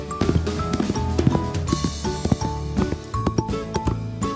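Galloping horse hooves in a preschool animal lesson, heard as a quick, uneven run of clip-clop beats over bright background music, close and moderately loud.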